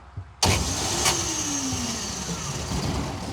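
A 1967 Unimog 404 diesel engine cranks and catches abruptly, then settles into a loud, close, steady idle with a faint whine drifting down in pitch.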